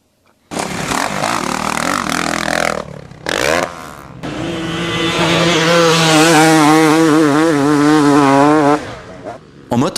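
A two-stroke motocross motorcycle engine revs loudly up close at a motocross track in Gueugnon, France, rising to a high buzzing whine, dropping briefly, then screaming again at high pitch.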